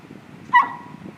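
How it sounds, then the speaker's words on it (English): An elk cow gives a single sharp, dog-like alarm bark at close range, a brief harsh call that trails off over faint background noise. "The first time I ever heard an elk do this, I thought it was a dog."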